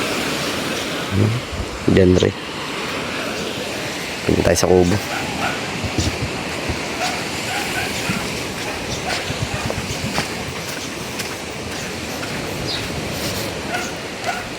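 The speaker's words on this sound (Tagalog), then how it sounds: "Sana ganyan lang lagi, hindi na lumaki ang alon." Calm sea waves wash steadily in a constant surf hiss, with a couple of dog barks nearby and people talking over the water.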